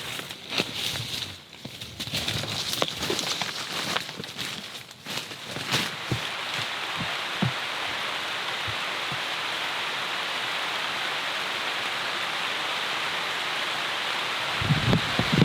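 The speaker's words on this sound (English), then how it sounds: "It's a healthy rain coming down." Steady rain falling in the Amazon jungle, a dense even hiss of drops on leaves and surfaces, with some nearby knocks and rustles early on before settling into constant downpour.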